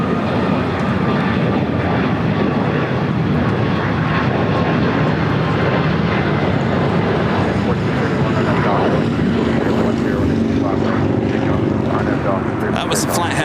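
A United Airlines Boeing 737 departs LAX, its engines a loud, steady broadband roar filling the whole stretch without letup, heard from nearby.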